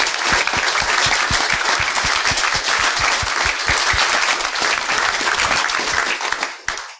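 A conference audience at an InfoSec talk gives a round of applause for the sponsors: steady, dense clapping with a close, sharply rhythmic clapper on top, sustained for several seconds before cutting off.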